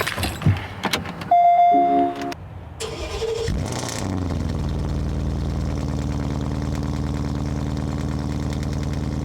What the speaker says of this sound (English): I can start it up, and you guys can hear it cold start.